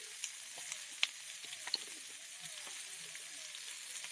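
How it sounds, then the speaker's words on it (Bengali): Cauliflower florets sprinkled with salt and turmeric frying in a pan, a quiet steady sizzle with a few faint clicks and pops, heard alone at a low level. "ভালোভাবে আমি এগুলো ভেজে নেব।"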